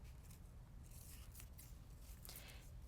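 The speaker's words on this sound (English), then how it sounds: "the first thing you're going to do is you are going to cut this in half" Scissors snip through faux silk ribbon, cutting it in half: a few soft, close crisp cuts over a low, steady background hum, with no talking.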